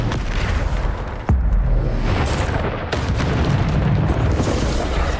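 A loud, booming spell explosion in Hogwarts Legacy bursts out sharply at one point, followed by sustained rumbling blasts and combat noise during a spell-heavy fight.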